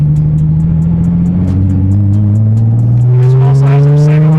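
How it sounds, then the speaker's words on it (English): A supercharged Nissan 370Z with single-exit exhaust accelerates hard, its loud droning engine tone climbing steadily in pitch with a supercharger whine on top, close and alone. "This one also has some single exit, so you get the noise with none of the rasp"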